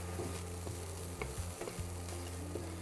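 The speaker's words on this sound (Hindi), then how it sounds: "थोड़ा सा इसको भून लिया जाए पहले हल्का" Carrots and peppers fry lightly in a pan over a low flame, giving a steady soft sizzle with occasional stirring scrapes and clinks throughout.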